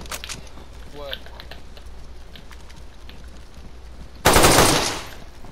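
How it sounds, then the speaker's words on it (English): Gunfire in the video game DayZ: scattered sharp shots, then one loud close burst near the end, with players talking over the action. "Who's that shooting?"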